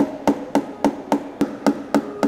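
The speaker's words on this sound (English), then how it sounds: "If you have fear of money, you can hammer it in and give it to him." Steady hammer strikes driving coins into a wooden sculpture, eight sharp evenly spaced blows about a third of a second apart, loud and close with a ringing metallic edge.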